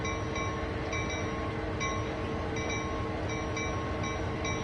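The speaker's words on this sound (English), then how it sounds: "We're gonna basically ram the locomotive with the turntable." Train Sim World 2 locomotive being rammed by a turntable and pushed off the track, a steady rumbling rail-yard drone with faint metallic clicks and tonal hum, continuous and fairly loud with no talk.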